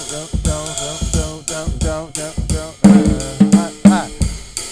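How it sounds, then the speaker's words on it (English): A jazz drummer works the hi-hat, alternating open sizzling strokes with tight closed chicks in a steady pattern over sustained tonal accompaniment, close and clear. "I just call it open and close hi-hat"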